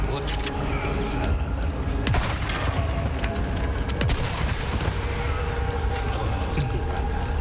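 Shots ring out in a Resident Evil 4 Remake session as sharp bursts over game noise and background sound, with a few distinct loud cracks standing out amid a busy, continuous mix.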